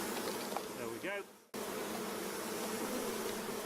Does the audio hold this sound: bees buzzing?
yes